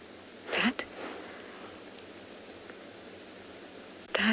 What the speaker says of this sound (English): That is the sound of an Impala ewe